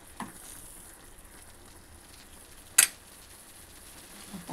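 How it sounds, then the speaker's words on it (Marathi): Chutney being stir-fried in a pan for a bitter gourd vegetable dish, a soft steady frying hiss with light ticks and one sharp clack of a utensil midway. "यामध्ये आपण देऊया चटणी टाकून. ते पण चांगलं आपण परतून घेऊया."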